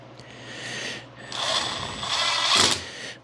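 A power driver sinks a 3-inch screw into wood in a workshop, driving the head below the surface. Short, close mechanical whirring bursts with a ratcheting buzz come in two pushes, the second louder.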